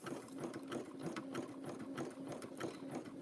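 A sewing machine stitches batik fabric-wrapped rope into a bowl, a rapid rhythmic mechanical whirr with regular needle clicks, fairly quiet and close, running steadily with no speech.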